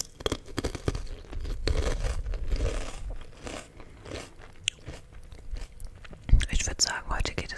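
Crunchy potato chips are bitten and chewed close to the mic in a repeated crisp crackle, with some soft speech-like sounds and bag rustling mixed in.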